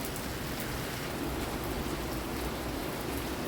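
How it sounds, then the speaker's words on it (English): Rain falls steadily at a farmhouse, a dense, even hiss of drops that holds at a constant level from start to finish with no voices. "Just want to show you what it looks like when it's raining at the farmhouse"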